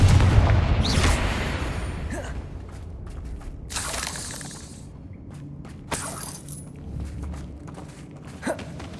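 Hogwarts Legacy spell combat: a loud opening burst and booming impacts, then scattered crackling blasts and thuds, with some shuffling movement in between.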